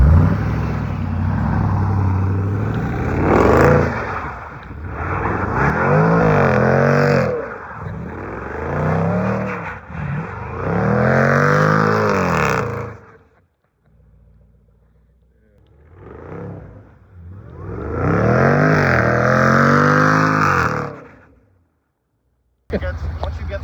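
A Jaguar F-Pace SVR revving hard with traction control off, wheels spinning in snow; loud engine roars rise and fall in long surges, briefly dropping away before another burst.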